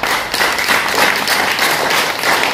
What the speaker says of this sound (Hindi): वो पंकज सिंह, एक बार जोरदार ताली बजाएंगे।